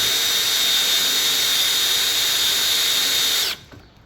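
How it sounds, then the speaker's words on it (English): A power drill whines steadily and loud while drilling a hole in a forklift for mounting safety lights, a constant high-pitched tone for over three seconds that then cuts off abruptly. "I'm just gonna drill and tap this hole."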